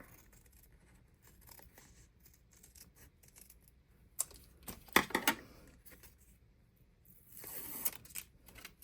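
Paper trimmed for bullet journal waterfall tabs, with a few sharp, close cutting snips bunched in the middle and a longer slicing pass near the end over a quiet room.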